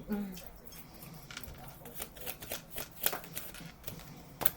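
Playing cards are handled and drawn in quick, soft flicks and shuffles at close range, faint and irregular, while a person talks.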